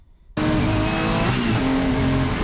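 Porsche 935 race car engine bursts in after a brief quiet start and holds a loud, steady rev with rising harmonics, a shift-like dip near the middle, then pulls on strongly, close and alone with no talk.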